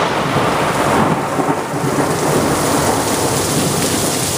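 A loud, rumbling thunderclap from a nearby lightning strike near a transformer rolls over heavy, steady rain pattering on surfaces, with no voices.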